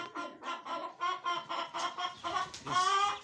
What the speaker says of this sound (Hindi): ये हमने सील चूजे लाए हैं, मुर्गियाँ लाए हैं।